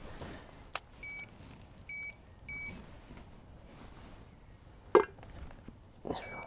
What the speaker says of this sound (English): Use a kettle as a bite alarm.